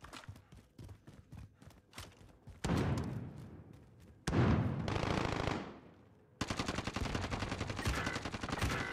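Gunfire in the Warzone video game, with sharp shots and rapid bursts that give way to long loud blasts and a dense stretch of continuous firing, close and forceful.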